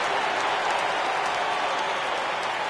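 Steady crowd applause and cheering fill a ballpark during a baseball game in MLB The Show, a dense, continuous roar with no clear breaks, heard alone without voices.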